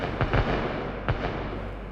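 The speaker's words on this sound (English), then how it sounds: "the Ukrainian military begin to cover them with cluster bombs" Cluster bombs going off over trenches in a war zone, a quick rattle of several sharp bursts followed by another loud blast a moment later, heard from a distance with a rumbling tail.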